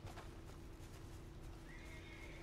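A horse neighs in the Red Dead Redemption video game, with hoof clip-clops under a dense, constant layer of game ambience and no talk.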